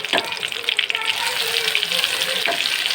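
Onions fry in hot oil in a clay pot, a loud bright sizzle with stirring scrapes and a few brief bursts near the start.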